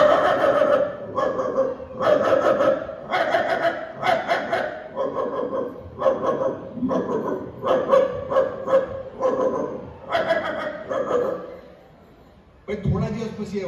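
A mimicry artist imitates dogs barking with his voice, a long run of loud rhythmic woofs and yelps close up in a comedy stage routine, with short pauses and laughter near the end.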